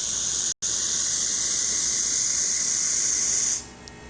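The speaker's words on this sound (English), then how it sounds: "So I'm going to put some hot water out from the tap, and then I'll let the machine refill" Pasquini Livia G4 espresso machine dispensing hot water from its tap, a steady close hissing rush that runs for about three and a half seconds with a brief cut near the start, then tapers off.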